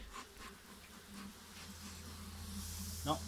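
A faint, steady buzzing of honeybees drones in the background at an open hive, with light handling noise and a brief rustle near the end.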